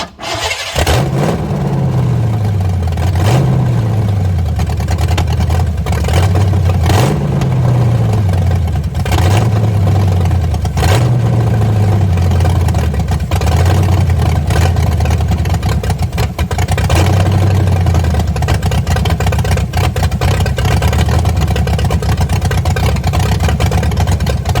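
An old truck engine fitted with a one-wire distributor idles steadily and loud, with a few rhythmic revs rising and falling throughout, running alone with no talk.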